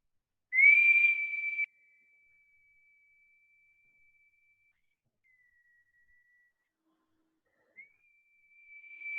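A person whistles a single sustained steady note that fades away, then after a pause a second whistled tone rises back in near the end.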